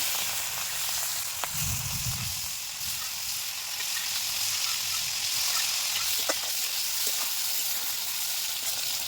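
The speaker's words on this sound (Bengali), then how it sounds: "এই চিংড়ি মাছটা আমি একদম কড়া করে ভাজবো না।" Tiger prawns frying in oil in a wok, producing a constant close sizzle with brief crackles and a few taps, steady and fairly loud throughout.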